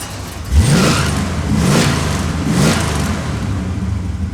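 A hot rod movie car fires up with a push-button start, the engine catching with a rising whine and then settling into loud, close revving pulses.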